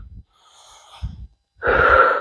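Heavy, rhythmic breathing during a home cardio workout, with short puffs of breath followed by a loud, rushing exhale, close to the mic and with no talking.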